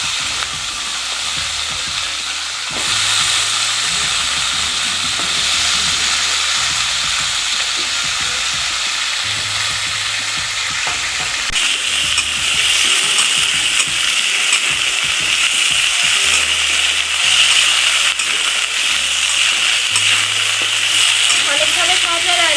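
Stems and potatoes for a fish curry fry in a pan, giving a loud, continuous sizzle under repeated stirring and scraping, which grows stronger partway through.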